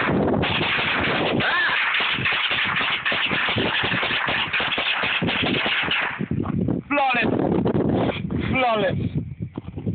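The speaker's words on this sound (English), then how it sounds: "My new M&P 1622. First time shooting it." A Smith & Wesson M&P 15-22 rifle fires a rapid string of sharp, loud outdoor shots in quick succession, then the firing thins out while people talk over wind noise.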